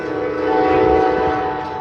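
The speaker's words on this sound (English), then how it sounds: "How many freaking Amtrak trains are there?" An Amtrak passenger train passes with a loud, sustained horn blast, steady tones holding for nearly two seconds over rumbling rail noise.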